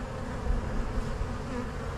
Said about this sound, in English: These are all robber bees coming in.